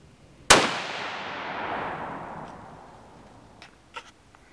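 A single sharp, loud report from a Savage Axis .308 rifle fired while sighting in an AIM 3-12x50 scope, followed by a long fading echo and a couple of faint clicks.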